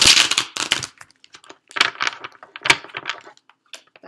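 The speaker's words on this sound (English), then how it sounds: "I've been doing some really, really sloppy shuffling" Tarot cards shuffled loosely by hand with a wrist brace on: a quick series of close, crisp riffling and slapping bursts, then a few lighter taps trailing off.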